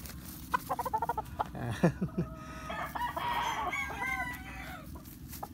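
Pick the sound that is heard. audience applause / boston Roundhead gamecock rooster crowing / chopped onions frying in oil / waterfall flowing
boston Roundhead gamecock rooster crowing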